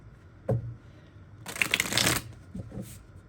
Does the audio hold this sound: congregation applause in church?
no